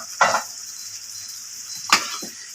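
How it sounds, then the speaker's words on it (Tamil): Diced tomato cubes sautéing in a pan for Kumbakonam kadappa, a low background sizzle broken by two sharp stirring or scraping bursts, close and fairly clear, no talking. "ஒரு தக்காளியை இந்த மாதிரி கியூபாக வெட்டி போட்டு வதக்கிக்கலாங்க"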